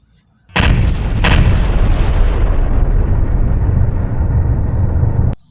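A grenade thrown in a video game sets off one loud, close blast, then a deep rumbling roar holds for about five seconds and cuts off abruptly.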